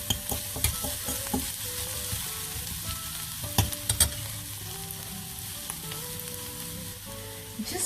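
Spinach puree sizzling and frying in a pan with sautéed onions for palak paneer, a steady hiss and crackle broken by sharp stirring clatters, close and fairly quiet.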